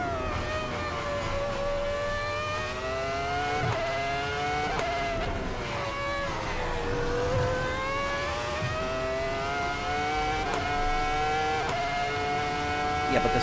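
A race car engine in a racing sim video game howls steadily at high revs, its pitch sweeping up and down through gear changes, loud and continuous with no talking.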